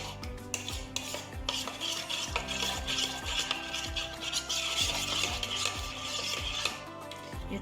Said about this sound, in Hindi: अच्छी तरह से मिक्स करेंगे ताकि मेयोनीज़ और दही जो है ना वो सब स्पाइस के साथ जो है ना अच्छी तरह